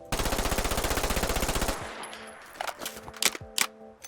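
A one-handed MP9 submachine gun in a Fallout 4 mod firing one rapid, loud burst for about a second and a half, then mechanical clicks and metallic clanks as the gun is handled.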